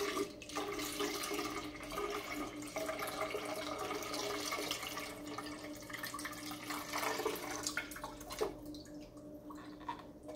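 Water from a young Thai coconut pours steadily into a blender, a continuous splashing trickle heard close up with no talking.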